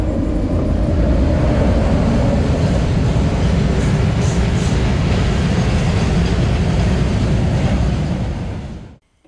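A train rumbles at Kozhikode railway station, its loud, continuous roar filling the scene from close by before cutting off abruptly at the end.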